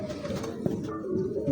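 A pigeon coos softly in a loft of golden and other fancy breeds, low throaty notes heard close, mixed with someone talking over it.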